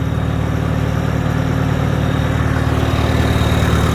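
A tractor engine runs steadily while creeping in second gear to plant soybeans, a loud, even low rumble with constant mechanical vibration and no talking.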